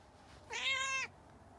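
A house cat resting in the sun in a bedroom lets out a single clear, drawn-out meow, close and fairly loud against a quiet room.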